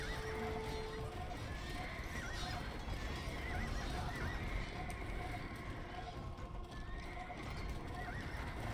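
Horses neigh and hooves clip-clop in a busy Age of Empires II battle, whinnies rising over a dense bed of game clatter and combat noise, with constant mixed sound throughout.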